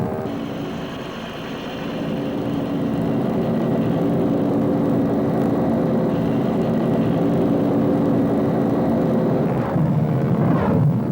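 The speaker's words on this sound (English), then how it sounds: "the Huey became one of the distinctive sights and sounds of the Vietnam War" A Huey military helicopter from the Vietnam War era, its turbine engine and rotor blades making a steady, heavy droning roar that stays loud and constant throughout, with no voices.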